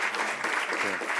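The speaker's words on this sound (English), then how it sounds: "Can we give them another round of applause?" An audience applauds panelists at a university history event, a dense burst of clapping heard up close and continuing steadily through the moment.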